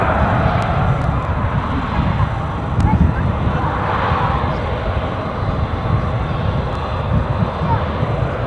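An aircraft at Edinburgh airport gives a steady, fairly loud engine rumble and roar with some brief clicks, and talk comes in over it.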